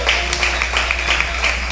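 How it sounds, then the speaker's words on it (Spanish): Church congregation claps in a quick, fairly even rhythm during a Sunday service, a short run of hand claps over a low steady hum. "Dale un aplauso al Señor en esta mañana"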